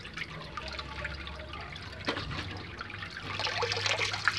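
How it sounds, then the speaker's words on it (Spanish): Water trickling and draining out of a plastic bottle fish trap, a soft gurgling dribble that grows louder and splashier toward the end, heard close with no talking. "Yo saco la botella, sale el agua hasta cierto nivel"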